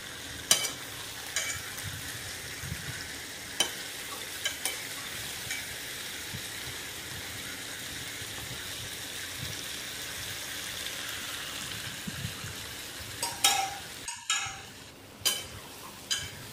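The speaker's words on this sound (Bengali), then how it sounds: "একটু একটু করে মাটনটা প্রেশার কুকারের ভেতর দিয়ে দিলাম।" Mutton pieces dropped into hot water in a pressure cooker give a continuous soft hiss with scattered faint splashes and clinks, growing into louder knocks near the end.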